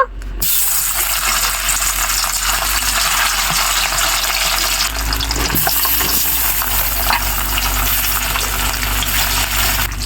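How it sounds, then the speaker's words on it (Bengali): Small puti fish, pre-rubbed with salt and turmeric, fry in hot oil in a pan, giving a loud, steady, dense sizzle that holds unbroken for the whole stretch. "আগে থেকে লবণ হলুদ মেখে রাখা মাছগুলো তেলের ভিতর দিয়ে দিব"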